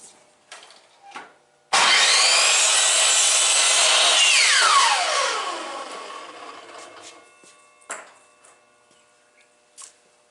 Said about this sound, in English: Now we'll just trim clean this end and we'll cut them to length.